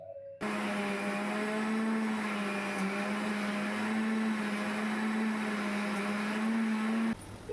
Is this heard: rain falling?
no